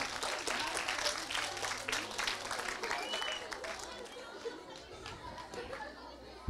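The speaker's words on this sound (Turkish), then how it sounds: "ben diyen kızımıza bir alkış alabilir miyim?" An audience at a Turkish family talk event claps and cheers for a volunteer, a steady burst of applause and crowd chatter filling the hall throughout, fairly loud and continuous without a clear end.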